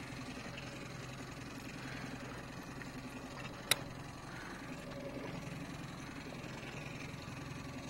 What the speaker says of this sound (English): when I'm running the motor, I speed it up, slow it down, make some turns, zigzags